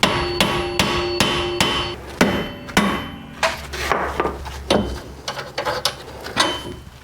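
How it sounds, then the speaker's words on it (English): Sharp metallic hammer taps on a front suspension part of a Ford Falcon BA/BF, a regular series of strikes followed by quicker, irregular knocks, close and clear. "you might have to give this a couple of love taps with a hammer"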